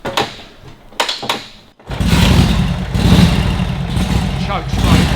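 A 1943 Harley Davidson WLA motorcycle is kicked over a few times with brief bursts before the engine catches, then settles into a loud, steady, throbbing idle close by.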